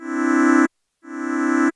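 Two sustained synthesizer notes with a soft attack envelope swell in gradually and cut off cleanly, separated by a short silence, each lasting under a second, clear and alone.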